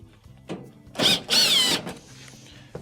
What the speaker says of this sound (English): Remove the first Phillips screw.